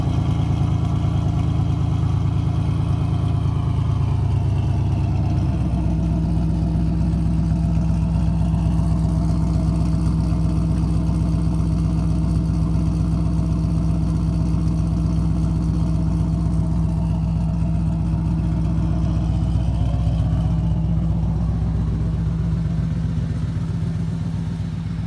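Chevrolet Camaro engine running steadily at idle while the car is loaded onto a trailer, a continuous low rumble with a slight shift in tone after a few seconds, close and loud, with no talking.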